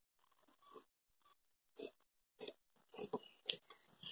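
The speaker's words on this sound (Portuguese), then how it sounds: "Agora é só a gente cortar" Scissors cut cloth for a patchwork dish towel in a quiet room, a series of short crisp snips that start faint and sparse and grow louder and quicker toward the end.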